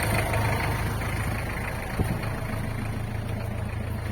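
A Nissan Urvan van engine idles evenly after a valve repair, a steady low rumble running throughout with one brief knock near the middle, close and fairly loud with no speech.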